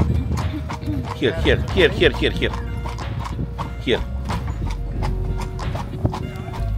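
Horse hooves clip-clop in a steady rhythm as a horse-drawn carriage moves along on Zakynthos, heard under people talking and a continuous low rumble.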